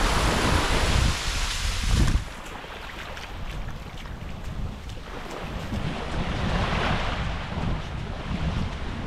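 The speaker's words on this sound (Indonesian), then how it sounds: "Ini dia suasana pesisirnya" Ocean waves and wind at Tablolong beach in Kupang, a loud, continuous surf wash with heavy wind buffeting the microphone, easing briefly and then swelling again, no one speaking.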